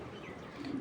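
Racing pigeon, a long-distance male bird, giving a soft, low cooing close by, brief and quiet against faint background noise, with the coo swelling near the end.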